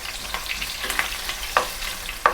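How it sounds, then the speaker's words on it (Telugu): Large-cut onions and curry leaves fry in a pan with a continuous close sizzle, punctuated by a few sharp scrapes and clicks as the mixture is stirred. "ఉల్లిపాయలు బాగా వేయించుకోవాలి"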